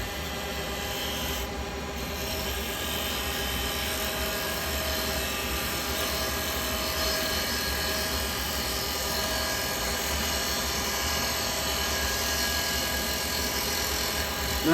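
A wood lathe spins steadily as a gouge shapes the bottom of a turned piece, producing a continuous close rasping hum with a low motor drone, unbroken and even throughout, no speech.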